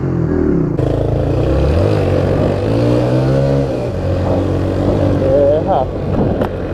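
A carbureted motorcycle engine revs up and down in a steady loud idle-and-throttle pattern with strong harmonic sweeps, close to the recorder, while someone talks over it.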